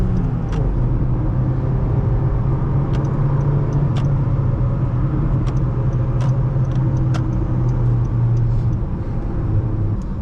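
Interior of a 2015 Honda Civic LX with a five-speed manual gearbox on the move: steady low engine and road rumble throughout, with light rattles and ticks from the cabin.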